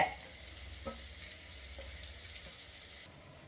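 Slit green chilies dropped into a hot pan for dhaba-style egg rice crackle and sizzle steadily, with a few brief stirring knocks and a quiet background.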